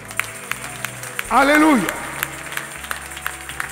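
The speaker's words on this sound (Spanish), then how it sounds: "dele un aplauso al Señor." A church congregation applauds during a worship service with faint, scattered clapping throughout, while one voice calls out a loud, drawn-out shout in the middle.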